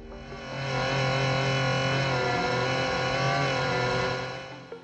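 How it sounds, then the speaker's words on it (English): The faulty control board fan of a Bambu Lab X1 3D printer gives off a steady, loud, buzzing drone rich in harmonics, swelling in after a second and holding constant before fading slightly at the end. "fan shouldn't sound like this"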